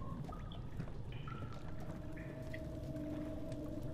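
Sewer water pouring steadily in Amnesia: The Dark Descent, a continuous broadband rush with faint tonal hums and drips over it, moderately loud and constant throughout with no talk.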